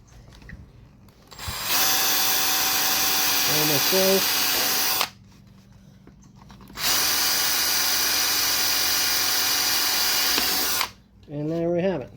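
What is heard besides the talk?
cordless drill with 1/4 inch bit drilling holes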